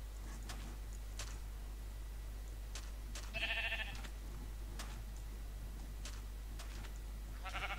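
Sheep in the Minecraft video game give two short bleats, one midway and a shorter one at the end, faint over a low steady hum and scattered soft clicks.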